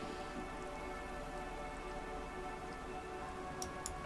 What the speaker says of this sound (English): Droplets of rain fall on the white on blue police livery of the motor carriage.